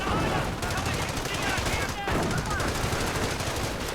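Sustained machine gun fire crackles through a Star Wars video game battle, dense rapid bursts with other gunshots layered in, loud and continuous for the whole stretch.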